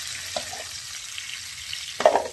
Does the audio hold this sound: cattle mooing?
no